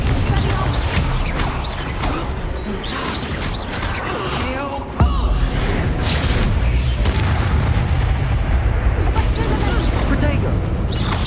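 Confringo fire blasts burst during a Hogwarts Legacy battle, heavy booms and crashing impacts layered over mechanical creaks, with a sharp hit near the middle and constant dense combat noise.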